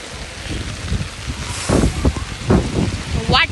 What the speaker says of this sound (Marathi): कसला पाऊस आहे